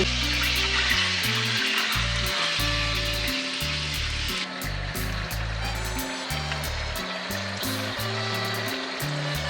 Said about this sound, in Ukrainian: Поки мені тут смажиться м'ясо